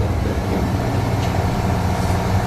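A car engine runs at a steady, loud drone with a low rumble for the whole stretch after oil treatment, the revs holding up under light throttle with no talk over it.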